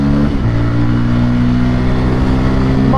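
A Bajaj Pulsar N250 motorcycle with a 250 cc engine revving in city traffic, a loud, close, throbbing exhaust note with pitch shifts as the throttle rises and settles, no talk.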